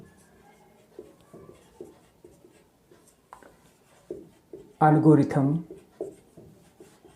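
Pen or chalk writes out a maths solution with soft, intermittent scratchy strokes at close range, while someone talks loudly over part of it.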